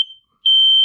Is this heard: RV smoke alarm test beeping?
yes